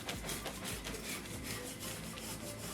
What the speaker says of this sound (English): So now I'm going to stand my watermelon up.